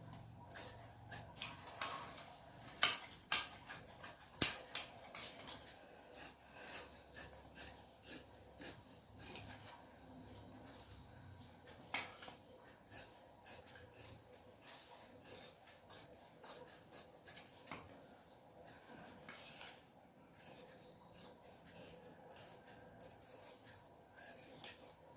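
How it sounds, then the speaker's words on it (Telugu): Scissors snip through blouse fabric in a run of crisp, close cuts, irregular and fairly quiet, with brief rustling of cloth between strokes and no talking. "కట్ చేసేసుకుందాం."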